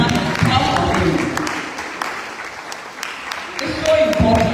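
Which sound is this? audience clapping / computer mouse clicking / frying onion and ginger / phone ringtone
audience clapping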